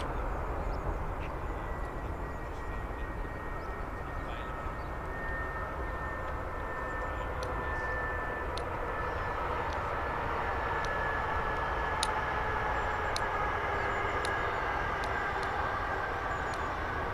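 An aircraft landing at Birmingham airport, a broad, distant engine roar that holds steady and faint throughout, with a slowly descending whine.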